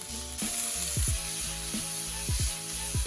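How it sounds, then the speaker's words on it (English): Cube steak sizzles in hot oil in a pan, a steady bright hiss overlaid with repeated scraping and stirring strokes at a regular rhythm, close and loud, with no talking. "Once pan is hot enough, put some oil, then cook cube steak and cook little bit."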